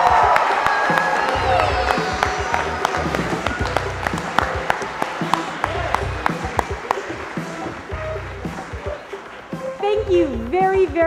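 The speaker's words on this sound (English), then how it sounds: "Let's give one more round of applause to all of our student performers today" An audience applauds student performers at the close of a school program, sustained clapping from a crowd with scattered cheers and whoops, while a voice speaks over it and a few sharp claps stand out near the end.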